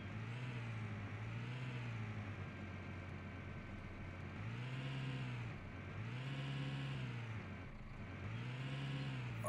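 A vehicle in the farming game Cattle and Crops drives toward the stable, its steady mid-pitched engine droning continuously with periodic rises and falls in pitch as it accelerates and eases off, alone without speech.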